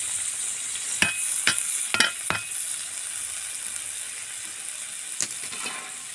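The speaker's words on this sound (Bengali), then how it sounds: "এবার আমি ভালো করে কষবো" Jackfruit and boiled potato curry being stirred and fried in oil in a pan for a prawn dish, with a steady soft sizzle and several sharp scraping clicks of a spatula against the pan, no talk.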